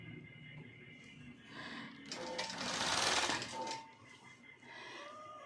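Longarm quilting machine stitching a client's quilt, a steady mechanical whir that swells louder in the middle and then settles back, close and continuous with no talk.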